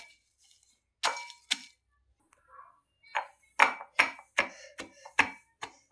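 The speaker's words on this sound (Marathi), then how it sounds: "हे बघा असं कुटून घ्यायचं आहे आपल्याला" Spices pounded by hand for a chutney, heard as a series of sharp knocking strikes, a few spaced hits followed by a quicker run of six or so close, fairly quiet thuds.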